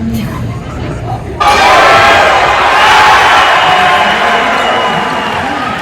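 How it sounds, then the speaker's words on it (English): High school basketball crowd that bursts into a sudden, loud cheer after a quieter moment and keeps roaring and shouting close by. "Wow, they really cheered us on."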